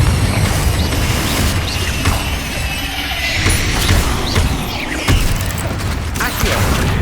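Spell blasts go off in Hogwarts Legacy, with repeated booming explosive bursts and crashing debris amid clattering game effects, loud and close, a voice briefly calling out.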